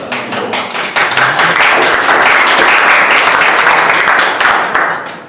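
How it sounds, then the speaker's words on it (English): Applause from the audience at a school board meeting fills the room, steady and fairly loud for several seconds before tapering off at the end. "We should at least applaud."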